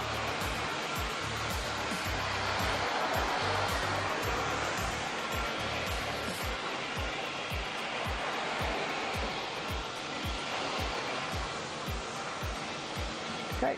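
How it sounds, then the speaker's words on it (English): A HAKO Scrubmaster B30 scrubber drier runs steadily while scrubbing the floor and sucking up water through its rubber squeegee, a constant broad rushing hiss with a faint regular low thumping underneath, close and unbroken. "lower this rubber squeegee back down, and then we can go around and pick all that water up"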